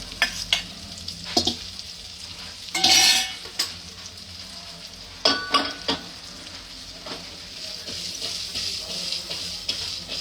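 Okra being stirred in a frying pan after garlic chutney has gone in, with a steady sizzle and hiss and several louder scraping and stirring strokes against the pan, close up.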